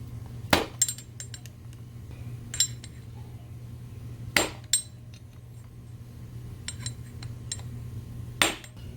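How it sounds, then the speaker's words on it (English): Sharp metallic taps of a hammer and punch on a clutch nut being locked into its keyway on a Honda CBR600F4i engine, several spaced clinks and knocks over a steady low hum in a workshop. "We want to tap that down to lock this nut in place."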